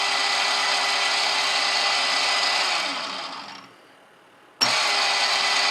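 A mini mill's motor whirs steadily, winds down and stops, then the spindle kicks back on at a switch flip with a sharp click and resumes its loud, even hum up close.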